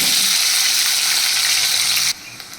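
Garlic and onion sizzle loudly in hot oil in a pan, a dense steady frying hiss that drops off sharply near the end to a quieter crackle.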